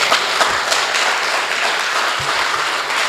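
A packed primary school hall of residents at a community meeting claps loudly and continuously, a thick, even roar of many hands with a few low thumps mixed in.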